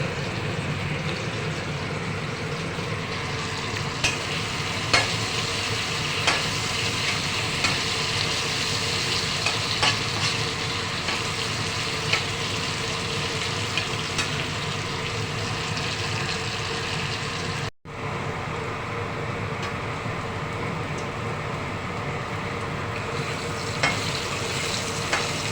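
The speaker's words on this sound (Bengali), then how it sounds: "আলু কাঁচা কলা ভাজা হয়ে গিয়েছে" Potato and raw green banana pieces fry steadily in hot oil for a curry with katla fish, a dense continuous sizzle with small crackles, close and fairly loud, cutting out briefly once near the end before resuming.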